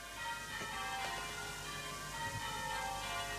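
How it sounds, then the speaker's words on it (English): Church bells ringing at night near a humpback bridge in the English countryside, a steady distant peal sustained throughout beneath faint background hiss. "blessed bells"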